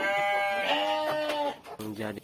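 Sheep bleating on a farm where they are raised for fattening: one long, wavering bleat followed by a shorter second call, close and loud, with a voice briefly overlapping.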